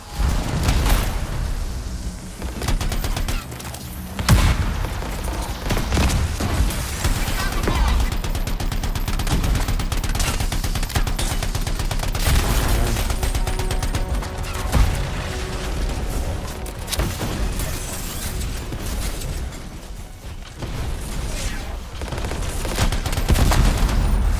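A really large gun firing in the video game Anthem, a sustained roar of rapid heavy gunfire and booming bursts that fills the whole stretch, loud and close with mechanical clanks between volleys.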